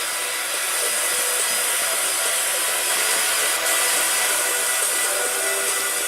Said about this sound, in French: Je vais pouvoir utiliser mon hot gun et tout simplement chauffer la poudre.